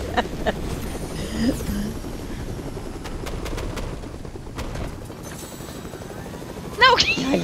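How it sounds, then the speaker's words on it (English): Helicopter in the video game Fortnite, a steady chopping engine drone running throughout under busy game sounds, with a louder burst near the end. "you took the helicopter from Schwartz"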